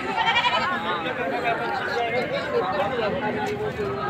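Goats bleat amid the steady crowd din of a local desi goat market in Ormanjhi, several overlapping calls under constant chatter and talk nearby.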